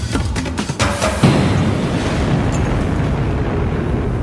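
Pyroclastic explosions of the Yellowstone supervolcano eruption, a cluster of sharp bursts followed by a loud, sustained rumbling roar.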